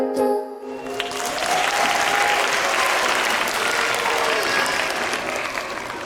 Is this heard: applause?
yes